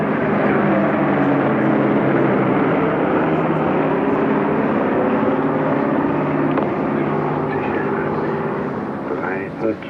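Steady, loud droning of propeller aircraft engines fills the air over Tempelhof airport in 1950, a continuous roar that fades slightly toward the end.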